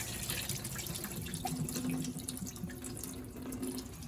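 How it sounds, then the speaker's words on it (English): Rice being rinsed under running tap water to wash off the starch for a Congolese rice dish: a steady, quiet stream of water splashing in a sink with faint trickles, no voices. "making sure you're taking off all of the starch"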